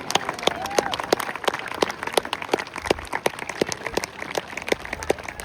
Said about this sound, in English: big round of applause please for the Jump Box Parachute Display Team